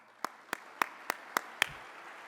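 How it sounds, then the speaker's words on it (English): Six sparse, evenly spaced hand claps ring out in a large room at an Army aviation summit keynote, faint and distant, with no crowd filling in around them. "let's give him a big round of applause as well"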